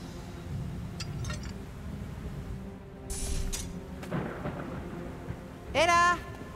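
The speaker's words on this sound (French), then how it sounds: "C'est sûrement à cause de l'orage." Distant thunder rumbling during a storm, a low rolling swell in the middle of the stretch with faint clinks and a brief sharp burst near the end, no talking.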